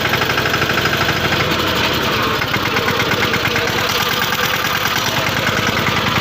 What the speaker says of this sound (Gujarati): ટ્રેક્ટર ભરાઈ ગયો ચલાઈ આવીએ